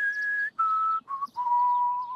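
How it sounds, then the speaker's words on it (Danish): Whistling through pursed lips in an animated children's show: four sustained, clear whistled tones, each a little lower than the last, close and on their own with no talk. "Spids læberne, dyb indånding og pust"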